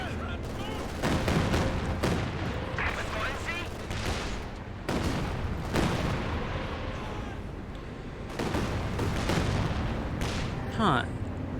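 A Katyusha rocket artillery barrage in Company of Heroes 2 unleashes repeated bursts of heavy booming fire in several loud waves, with rumbling explosions rolling between the volleys.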